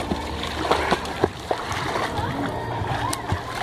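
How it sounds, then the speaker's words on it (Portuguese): Water splashing from someone swimming, with soft repeated splashes and sloshing close by at an uneven stroke rhythm over a steady watery background. "É eu nadando assim"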